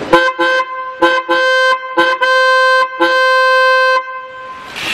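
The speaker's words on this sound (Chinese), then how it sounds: "一个喇叭的声音。" A single waterproof snail air horn blasts in a series of short and longer honks, loud and close, with a bright, harmonically rich bleat and brief silent gaps between bursts.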